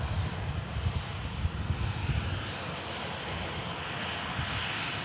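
Ryanair airliner taxiing after landing from Lisbon, a steady broadband engine roar that holds fairly loud and even throughout, heard alone without talk.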